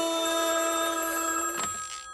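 A telephone rings with a bright, steady electronic trill that holds loudly for nearly two seconds, then breaks off and fades away.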